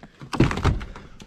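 A frozen truck door, on a plow truck in winter, thuds and clunks as it is forced open, with a few close, heavy knocks and a short rattle, without talk.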